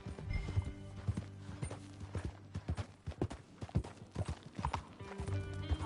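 Horse hooves clip-clop at a steady walking rhythm in Red Dead Redemption 2, soft and fairly quiet, with a faint mechanical rattle underneath.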